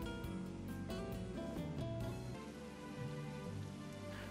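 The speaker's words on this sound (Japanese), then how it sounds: "雨か。" Steady rain pours down across an outdoor area in Final Fantasy XV, a dense continuous patter over the whole stretch with a low rumbling background and faint musical tones.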